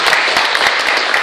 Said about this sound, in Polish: Ogromne brawa dla pana Krzysia Rudy.